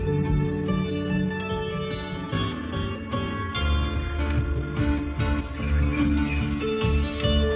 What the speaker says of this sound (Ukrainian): Це бандура, народ.